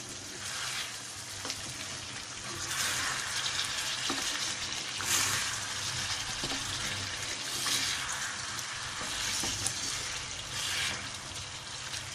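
Chopped tomatoes fry in a karahi for chicken karahi, a steady close sizzle and crackle lasting throughout with faint stirring and no talking.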